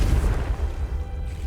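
A Confringo blasting spell from Hogwarts Legacy erupts as a dense, low booming explosion that rumbles steadily through a short moment without any speech.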